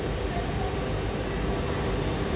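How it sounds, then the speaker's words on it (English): An SNCF train rumbles with a loud, steady broadband roar, continuous throughout with no pauses or voices. "We are going to ride in this big train. It's SNCF."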